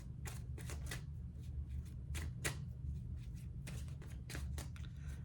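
A deck of tarot cards being shuffled by hand, a series of quick riffling bursts and soft slaps in irregular clusters, close and fairly quiet over a low background hum, with no talking.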